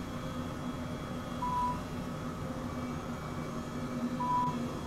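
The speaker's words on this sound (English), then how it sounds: "It is beeping faster." In a Microsoft Flight Simulator search-and-rescue helicopter flight over Alberta, a search locator gives two short, thin electronic beeps a few seconds apart over a steady rotor and engine drone.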